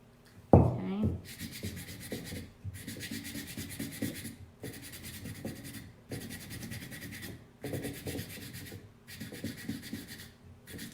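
Sandpaper rubs over a black-painted wooden rolling pin to give it a worn farmhouse look, a close, steady scratchy scrubbing in repeated bursts with short pauses between strokes, after a sharp knock at the start.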